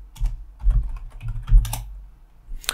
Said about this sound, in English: So I can just simply type here